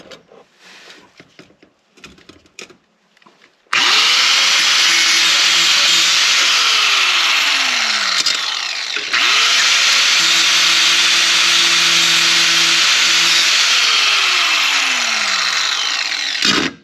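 Power drill used while cutting up a Subaru XT6 car: two long, loud runs of steady whining, each winding up sharply and spinning down at the end, with a short pause between them.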